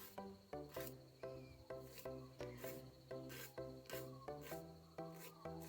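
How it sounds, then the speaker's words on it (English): A nail file rasps gently across the edge of a glitter nail wrap in quick, evenly spaced strokes, about a dozen soft scratchy passes up close with no talking. "So I'm filing from behind on this angle and down, like that, or to the side, just quite gently."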